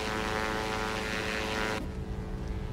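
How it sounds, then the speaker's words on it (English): A Diamond DA-62 twin-engine propeller plane roars steadily at takeoff power, loud and close from inside the cabin, then the sound drops abruptly to a quieter, muffled drone near the end. "We're in the Diamond DA-62 twin engine."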